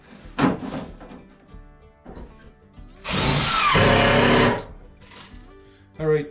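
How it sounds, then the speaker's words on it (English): A power drill driving small 3/4 inch screws into a drawer-bottom board: a loud, steady whirring burst lasting about a second and a half, with short knocks and handling sounds before and after. "So I got some little 3/4 inch screws just to hold this in place."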